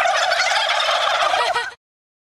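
Traditional bronze turkeys gobble loudly together in a dense, overlapping chorus of rapid warbling calls, close by and continuous, then cut off abruptly into silence.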